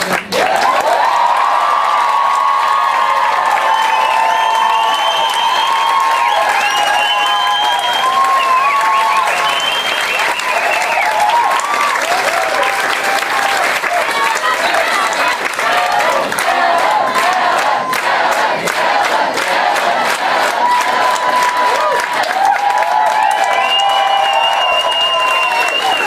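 A large crowd applauds and cheers loudly at a Greens election victory speech in Melbourne, with sustained clapping, whoops and shouts running continuously near and full.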